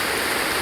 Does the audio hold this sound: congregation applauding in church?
no